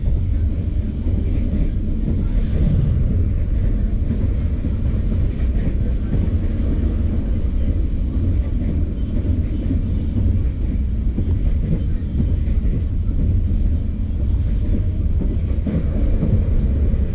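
The Walahar passenger train rolls along between Cikarang and Purwakarta, heard from inside as a loud, steady low rumble of wheels and carriage that continues unbroken for the whole stretch.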